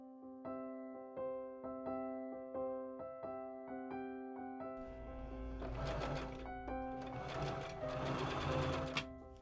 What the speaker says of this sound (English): I machine sew the gusset to the top front, stopping right before the end by 5/8 inches.